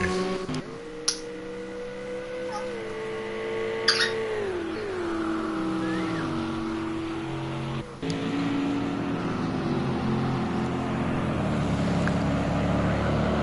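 BMW race cars roar through a Le Mans racing video game, engine notes sweeping down in pitch as they shift and pass, a steady loud drone with a few brief clicks and no talk.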